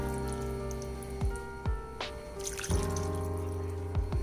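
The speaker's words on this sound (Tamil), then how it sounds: "இந்த பால் சேர்த்துக்கலாம்." Thin coconut milk is poured into a pot of Angamaly-style mango curry, giving soft liquid splashes and a few drips over a steady low kitchen hum.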